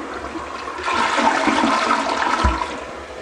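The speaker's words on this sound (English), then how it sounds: "flush it away, never even look back in the toilet" A toilet flushes in a compost-style tiny house bathroom, starting with a low thump and building into a loud, steady rush of water that carries on to the end, with a brief gurgling knock near the finish.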